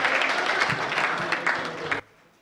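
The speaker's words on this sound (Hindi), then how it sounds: "आप अगर चाहें तो अपने सम्मान में ताली बजा सकते हैं।" Applause from the audience at a Hindi comedy poetry gathering, a dense, steady burst of many hands clapping for about two seconds before cutting off abruptly into near silence.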